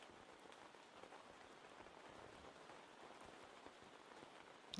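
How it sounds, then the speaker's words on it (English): Steady soft rain patters on a tent in a quiet, close setting, an even hiss of drops with no voices and no breaks. "It just goes nicely into some rain"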